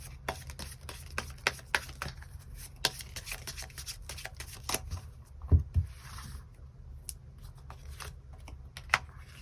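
Tarot cards are shuffled and drawn at close range, with soft irregular flicks and light taps, one louder slap in the middle, quiet and with no talking.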